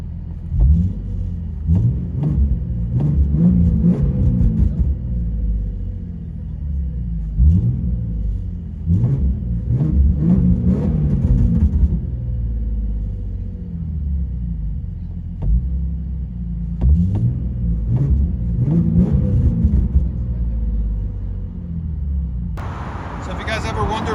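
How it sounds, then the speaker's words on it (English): Inside a 2007 Infiniti G37 with a Z1 Motorsports cat-back exhaust, a deep exhaust rumble drones and swells with throttle, loud and close through the cabin, with a voice talking over parts of it. "I'll let you guys hear on the inside."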